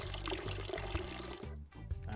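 Water pours steadily over plants in a weed shop video game, a continuous close splashing rush with a brief dip near the end and soft rhythmic game sounds underneath.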